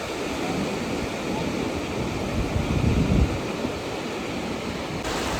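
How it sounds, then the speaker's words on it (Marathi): Steady roar of surf washing onto Diveagar beach on the Konkan coast, with wind buffeting the microphone and a slightly stronger wave surge near the middle. "तुम्हाला लाटांचा आवाज ऐकवतो"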